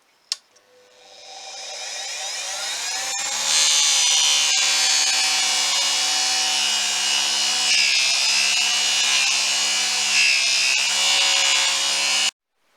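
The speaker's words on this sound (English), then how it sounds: "now I'm just going to polish it up with a buffing wheel" A buffing wheel polishes a small metal Viking-age sun or shield pendant, giving a loud, steady high-pitched whirring grind that spins up over a few seconds, holds alone and cuts off abruptly.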